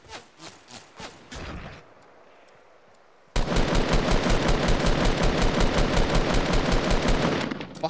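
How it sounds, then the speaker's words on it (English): Gunfire in Fortnite: a few spaced shots and a brief burst give way to a pause, then a long, loud stream of rapid automatic fire hammers on in a steady, even rhythm. "I'm getting shot in the ass"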